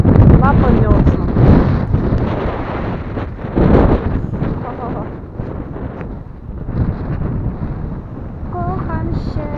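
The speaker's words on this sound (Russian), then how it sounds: "Ужас, ветер." Strong gusty wind buffets a microphone outdoors in a field in Poland, with loud low rumbling roars rising and falling, and voices briefly heard through it.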